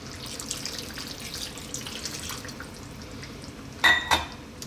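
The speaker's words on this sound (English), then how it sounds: "I'm going to add a little bit more water." Water poured into a pot of Ethiopian lamb and potato stew, a short splashing gush near the end over a steady background hum.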